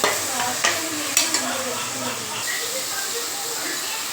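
Tomatoes with ginger-garlic paste sauté in a pan for a chicken kuzhambu. A steady hissing sizzle runs throughout, and a few scraping stirs are heard in the first seconds.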